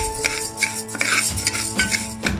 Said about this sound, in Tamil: குக்கர் நல்லா ஹீட் ஆனதும் நம்ம பாசிப்பருப்பை ட்ரை ரோஸ்ட் பண்ணி எடுத்துக்க போகிறோம்